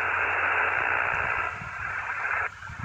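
A Yaesu FT-891 radio hisses with loud, steady white-noise static that drops to a quieter hiss when its DNR noise reduction switches in partway through.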